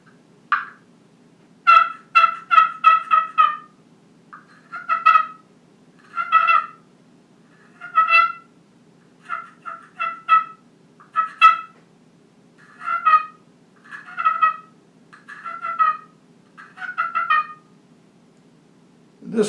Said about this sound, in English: We're getting down to slate calls and strikers.